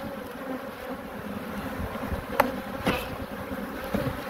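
Honeybees in a crowded beehive hum as a dense, steady, fairly faint buzz, with a few individual bees passing louder and closer.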